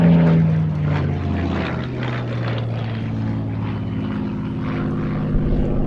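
A Spitfire propeller fighter flies over, its engine a steady, fairly loud droning roar that holds evenly across the whole stretch without any voices.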